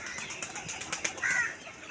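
Fancy pigeons flap their wings in a few soft, quick flurries, faint and brief against a quiet background.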